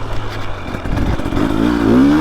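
A KTM 300 TBI two-stroke dirt bike being ridden on a GP-style moto loop, its engine droning steadily and rising in pitch as the throttle opens, loud and close with no talk.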